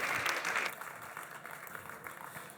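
An audience at a national conference on cycle tourism gives faint, distant applause for the panel speakers, a thin patter that fades after the first second into low room noise.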